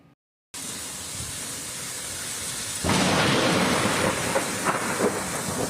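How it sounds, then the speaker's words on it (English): Steady roar of heavy rain with a low rumble of thunder, growing louder and denser partway through, close and enveloping. "Here are some of the sights and sounds from the storm as it passed through."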